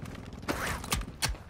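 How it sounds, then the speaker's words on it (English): A short run of mechanical clicks and clacks from a weapon being reloaded in a shooter video game, a few distinct sharp metallic snaps close up at low overall level. "Reloading."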